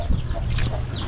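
A chicken clucking close by in a short, low burst, heard alone against a faint background.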